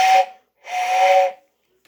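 A person imitates a steam-style train air whistle with their mouth: two breathy whistling blasts, a short one then a longer held one after a brief pause, near and fairly loud, with no speech.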